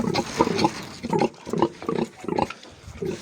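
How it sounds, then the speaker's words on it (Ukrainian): A sow on a Ukrainian farm grunts and snorts repeatedly at close range in quick, uneven bursts. The sounds are loud and clear, with no voices over them. "У нас там дві свинки залишилося."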